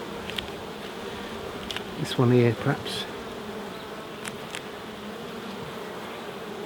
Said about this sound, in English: And this time there's quite a few bees in here.